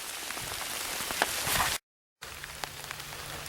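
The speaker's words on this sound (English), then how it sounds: "It's raining, thunderstorming, kind of a nasty day." Steady rain falling outdoors during a thunderstorm on a nasty day while checking trap sets, a dense close patter on surfaces that cuts out briefly before resuming.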